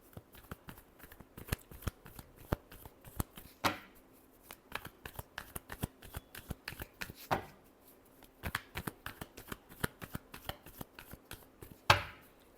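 Playing cards are shuffled close by in repeated quick riffles, crisp rapid flutters grouped into bursts with sharper snaps at intervals, fairly quiet with no talking.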